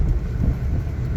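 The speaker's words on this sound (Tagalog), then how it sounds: "medyo mahangin." Wind buffets the microphone during a drive on an expressway under overcast skies, a steady low roar with gusty rumble and no distinct events across the brief stretch.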